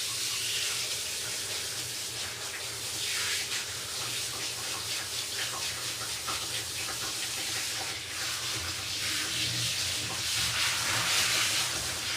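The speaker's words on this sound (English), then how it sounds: "fancy the wash, don't you, Stinker?" Water runs steadily from a tap while a dog is washed during home grooming, a loud continuous hiss and splash that holds without pause for the whole stretch.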